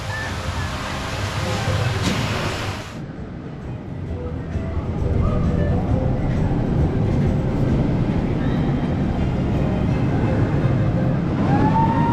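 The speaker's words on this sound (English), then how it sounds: "There goes the train, it's going back into the station now." A rumbling roller coaster train rolls back into the station with a steady roar that swells louder midway, with clattering and faint squeals as it passes nearby, at Energylandia theme park, Poland.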